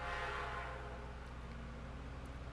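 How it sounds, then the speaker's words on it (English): A train passes nearby as a steady, continuous rumble with a broad rushing wash, fairly faint and unbroken throughout, with no voices. "Notice that we got trains in our area."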